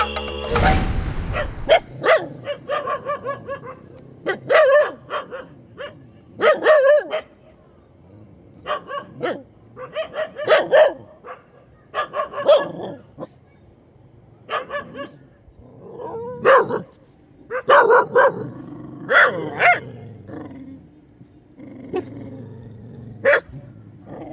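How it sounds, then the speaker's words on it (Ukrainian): Several dogs bark repeatedly in irregular bursts in Thailand, some near and some farther off, with occasional growls and yips over about twenty seconds. "Як ви чуєте, довкола нас дуже багато собак."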